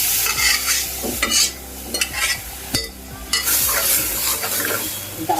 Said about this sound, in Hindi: गैस को मैंने फुल कर लिया है और इसमें अब मैं दाल डाल रही हूँ